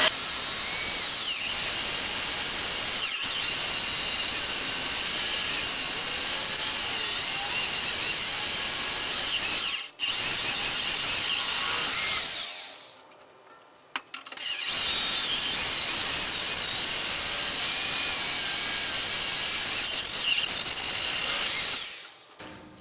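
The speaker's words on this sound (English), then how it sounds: "drill our pilots, and then drill our actual hole" An electric drill bores pilot and full-size holes in metal parts for a go-kart drive: a loud, steady, high whine that runs nearly continuously, with two short breaks where the drill stops and then spins up again.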